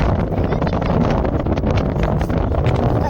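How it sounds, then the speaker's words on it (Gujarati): Strong wind blowing outdoors, a loud, continuous rushing roar buffeting the microphone with no break for its full length. "તો ગાઈસ હવે પવન ચાલુ થઈ ગયો"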